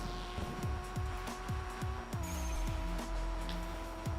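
Racing cars in the mobile racing game The Street King sweep through corners, the engine note dropping in a repeated downward pattern at each turn, steady and close beneath a high whine.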